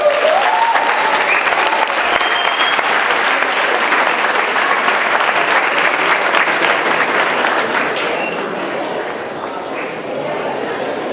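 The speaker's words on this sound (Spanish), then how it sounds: "Aplausos, por favor." A crowd at a university gender-equity event applauds steadily, loud broadband clapping that thins slightly near the end, with faint voices mixed in underneath.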